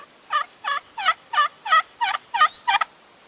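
A friction call scraped on its slate side, with a Purple Heart striker, produces a steady series of eight raspy turkey hen yelps, evenly spaced and clear, with no other sounds.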